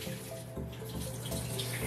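Water pours steadily out of a toilet water tank on a Briggs Vacuity 4400 Series toilet, a continuous close splashing gush with no talking.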